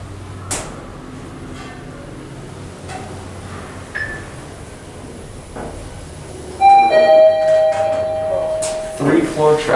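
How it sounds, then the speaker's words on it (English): A Mitsubishi traction elevator in a shopping center parking garage sounds a loud multi-tone chime that rings out after a stretch of quiet cab hum and soft clunks, with people talking nearby. "Chimes are really loud on this one."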